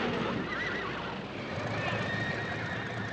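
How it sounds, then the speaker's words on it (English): Horses neigh and whinny over steady background noise, with a couple of drawn-out calls amid continuous ambience. "there are your horses"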